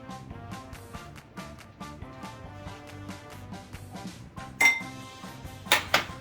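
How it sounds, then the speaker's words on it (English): A metal bowl is lifted out of a cooking pot after smoking marinated mutton for kebabs, giving several sharp metallic clinks and clanks near the end, above a soft background of faint music. "We carefully remove this bowl"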